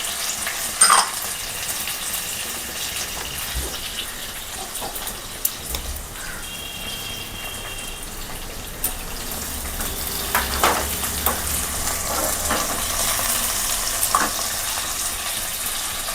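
Onion, curry leaves and dried red chillies frying in hot oil in a pan for a dried fish curry, a steady close sizzle with occasional stirring scrapes and crackles, no voices.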